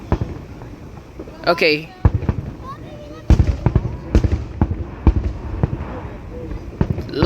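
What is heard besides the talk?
fireworks exploding during 4th of July show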